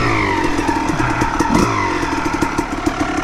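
An off-road dirt bike, still cold, idles and revs at an OHV park, its engine running close with a choppy, uneven rumble and clattering pops throughout, with no talking.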